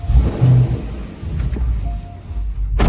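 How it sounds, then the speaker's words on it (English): A W8 car engine revs in a few short bursts with a rumbling low tone, close by, ending in a sharp rise at the finish. "Let's hear how this W8 sounds."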